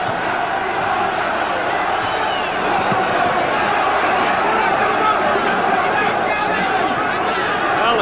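Boxing match crowd at a fight between Joe Bugner and Ali, a loud, steady roar of cheering and chatter from the arena throughout, with no break.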